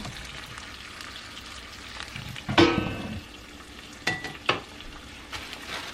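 Eggs with broken yolks sizzle steadily in a hot pan for a keto breakfast quesadilla. A few sharp spatula scrapes and crackling bursts rise above the quiet frying.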